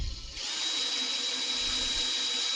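A power drill spins a brass cartridge case trimmer used for ammunition reloading. It starts after a brief click and holds a steady, high whine at close range with no speech.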